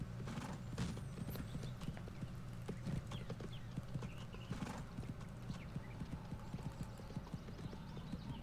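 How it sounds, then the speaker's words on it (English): Galloping black horse in the video game Go Vacation, with rapid continuous hoofbeats drumming steadily across the whole stretch at moderate loudness under faint background game sound. "Running around in green plains on a black horse."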